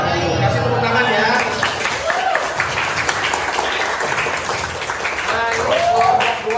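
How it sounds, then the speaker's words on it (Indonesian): A classroom group claps in sustained, dense applause, loud and close throughout, with a few voices mixed into the clapping. "Kasih tepuk tangan ya."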